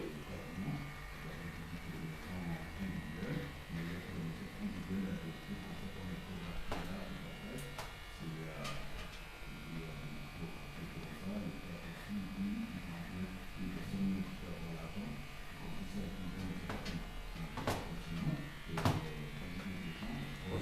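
Electric clippers shear a lamb with a steady, close buzz that hums without a break while people talk nearby.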